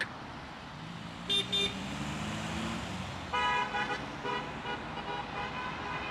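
A few short car horn toots over steady city traffic noise in Sheffield, one early pair of honks and another cluster a few seconds later, moderately distant.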